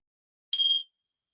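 A single small bell rings once to open a yoga session, a bright, clear ting that rings briefly and fades with no other sound around it.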